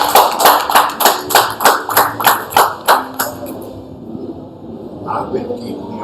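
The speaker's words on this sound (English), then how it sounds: "Round of applause for that, man." On a podcast, a steady round of claps rings out, about a dozen evenly spaced sharp hand claps close to the microphone, then fading into quieter room sound.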